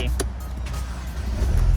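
A 2010 Mercedes-Benz C200 W204 is started with a key, giving a brief crank followed by a close, low engine rumble that swells near the end, with a voice briefly present.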